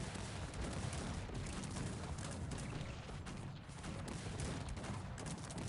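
Dense, continuous rumble of cannon and musket volleys from a large real-time strategy battle in Cossacks 3, with multiple cannons firing on the front lines; steady and loud throughout, no pauses.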